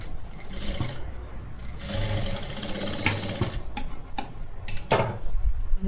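A sewing machine stitches a small fold on a blouse collar, its needle running in a steady, fast mechanical whir with brief pauses and clicks between short bursts of stitching.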